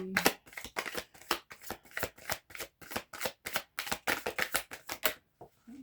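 Oracle cards shuffled close up in quick, crisp riffling bursts, about a dozen sharp flutters in steady rhythm, with no voices.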